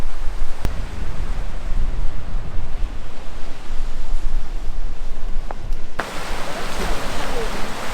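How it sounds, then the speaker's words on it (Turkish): Strong stormy wind roars into the microphone at a seaside campsite, in a loud, continuous broadband rush that swells and shifts, with a gustier burst near the end. "sabahtan beri rüzgar yiyoruz felaket şekilde"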